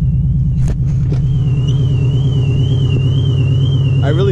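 A car engine at a car meet rumbles loud and deep without a break, close by, while a thin wavering tone rides above it.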